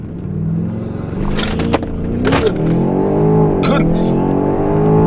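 A BMW X5M launches hard from a standstill on a 0-60 run, its engine roaring loudly and climbing in pitch through the gears with brief tire noise, while a voice exclaims over it.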